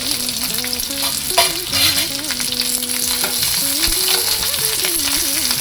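Chopped onions and curry leaves fry in a pan for a methi seed gravy, a loud, continuous sizzle with scraping stir strokes throughout, under a steady tonal backing.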